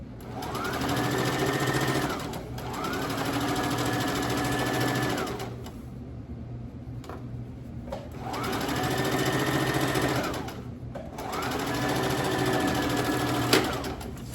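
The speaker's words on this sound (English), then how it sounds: "I'll just turn it down when I'm sewing, and I'll stop sewing when I'm talking." Home sewing machine stitching a designer tote bag, running in several long steady bursts with short pauses between them, loud and close with a faint background hum.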